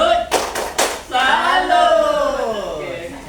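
A group of teachers does the 'tepuk salut' rhythmic clap: three quick, loud group claps, then voices chanting along right after.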